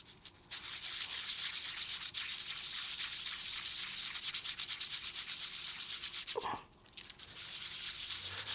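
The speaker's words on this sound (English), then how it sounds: "it's a good idea at this point to do a lightly little sanding like this to help get rid of the flaws" Sandpaper rubbed rapidly back and forth across an e-bike brake rotor, a steady gritty hiss of fast repeated strokes up close, broken by a brief pause before the scraping resumes.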